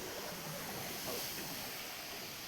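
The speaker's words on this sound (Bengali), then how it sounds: "জলটা কত সুন্দর ঝরে আসছে" A waterfall in Meghalaya pours steadily, heard as a broad, even rush of falling water with no voices, fairly faint and constant.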